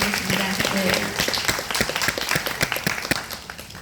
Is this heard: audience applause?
yes